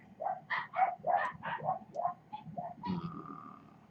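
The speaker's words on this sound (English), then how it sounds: "those are just my dogs barking" Several dogs bark in a quick run of yips and barks, fairly close, ending with a higher drawn-out whine.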